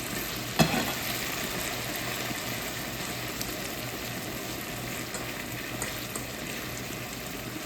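Jamaican saltfish with okra, tomato, onion, garlic, thyme, carrot, sweet pepper and hot pepper simmering in a pan, a continuous dense sizzle and bubbling at steady level with one brief clank near the start.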